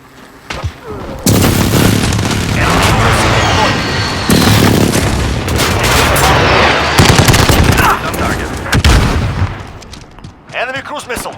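Airstrike in Call of Duty hits during a hardpoint match in Shoot House, a loud sustained barrage of booms and rapid gunfire that starts abruptly and rumbles on for several seconds, with game voice lines mixed in.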